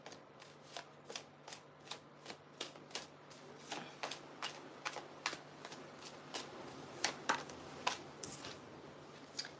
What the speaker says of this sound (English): I'm going to just do a little bit of a shuffly poo for Pisces